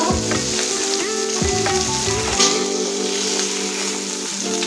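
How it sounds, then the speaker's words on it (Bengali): Fish frying in hot oil in a pan, a loud continuous close sizzle with a few spatula scrapes early on. "এখানে দেখুন মাছটা ভেজে নিয়েছি এখন নামিয়ে নেব"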